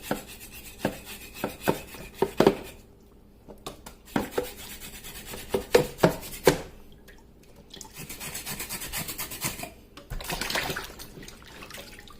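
Cooked catfish flesh for a pepper soup is scraped in a bowl, a series of close, short scraping and tapping strokes with wet rubbing sounds, pausing briefly between bursts.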